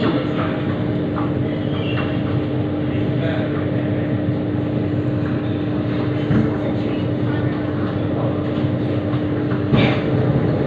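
An SMRT C830C train pulls into Stadium station, a steady low rumble and hum filling the whole stretch at close range, with faint platform announcements beneath it.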